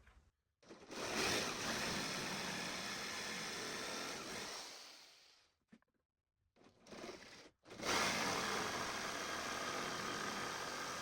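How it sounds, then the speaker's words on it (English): A jigsaw cutting a point into the end of a wooden light post for an outdoor Christmas decoration, buzzing loudly and steadily near the mic, stopping briefly midway, then starting again for a final stretch of cutting. "I'm going to add a little point on the end with the jigsaw"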